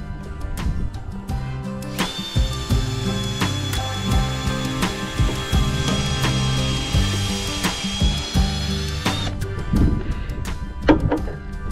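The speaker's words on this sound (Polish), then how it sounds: "Wezmę wiertło 6, aby zobaczyć, czy 6 nie będzie miała mniejszego luzu." A power drill fitted with a 6 mm bit bores a hole while a stork nest platform is built, a sustained whining run between knocks and handling thuds.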